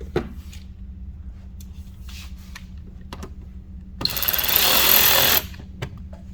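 A power driver runs a screw in for about a second and a half while a Rokblokz mud flap bracket is mounted on a 2021 Ford F150. It is a loud buzzing burst after a few quiet taps.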